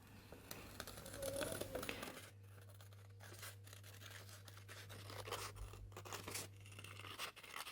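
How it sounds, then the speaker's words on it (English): Scissors trim the edge of fabric for a quiet book page, a close run of snipping and rasping cuts, then a steady low hum under sparser scratchy snips. "Now just take your scissors and trim off the edge."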